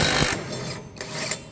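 Avhrit cordless impact wrench in reverse with a socket removing blade bolts, a loud buzzing hammering burst that stops, then short rattling bursts, with no talking.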